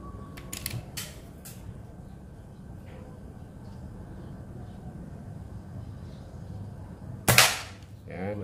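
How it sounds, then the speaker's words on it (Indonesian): A PCP Mini AWW air rifle, charged to 2700 psi with a 30 cm barrel and 38 mm duralumin tube, makes a few mechanical clicks early on, then a single sharp, loud shot crack near the end over quiet background noise. "Sekarang tembakan yang keenam."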